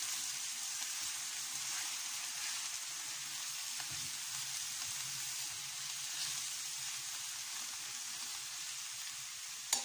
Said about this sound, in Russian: Вот так прожариваем.